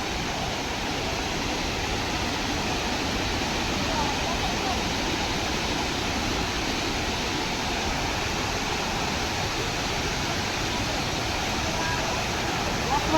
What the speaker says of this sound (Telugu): సుమారుగా చూసినట్లయితే అదిగోండి, ఒక 500 ఫీట్స్ నుంచి అయితే వాటర్ అనేది జారుతూ పడుతుందనమాట.